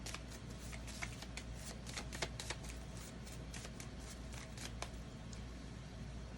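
A deck of spiritual oracle cards being shuffled by hand, a soft continuous riffling with quick papery flicks and taps, faint and close, with no talking.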